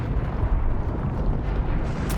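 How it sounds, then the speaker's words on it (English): Leman Russ tank squadrons shell advancing Tyranid Carnifexes in a Warhammer battle, producing a continuous, heavy low rumble of explosions and distant artillery that rolls on without clear breaks, loud and alone. "Lehman Russ squadrons now pound the advancing Carnifexes."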